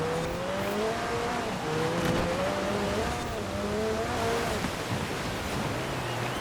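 Ferrari F50 race car cornering on snow in Forza Horizon 4, engine revving and rising and falling in pitch through the turns over a steady rushing road and tire noise.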